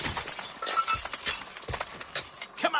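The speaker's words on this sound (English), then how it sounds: "I swung the cuspidor high and flung it over their heads through the frosted glass door into California Street." A brass cuspidor smashes through a frosted glass door onto a city street, producing a burst of loud shattering glass followed by scattered tinkling and clinking shards over about three seconds, with no voices.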